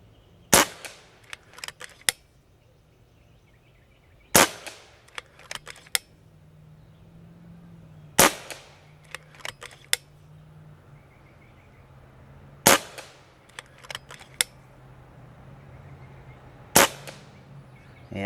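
Shots from a Karma Red Panda .30 caliber bench rest air rifle: five sharp, loud cracks spaced about four seconds apart. Softer clicks and clacks of handling and cocking fall between them over a quiet background.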